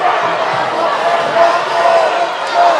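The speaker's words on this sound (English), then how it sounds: "The crowd not pleased, as you can tell" A volleyball arena crowd grumbles and murmurs in displeasure after a lift call, a broad sustained wash of voices with small swells, while a commentator talks over it.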